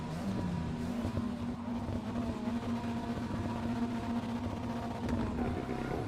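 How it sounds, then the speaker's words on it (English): A Ford Focus RS engine in the Assetto Corsa EVO racing game drones at a steady, loud pitch throughout, a constant engine tone with layered harmonics and no speech. "remember it's a Focus RS engine"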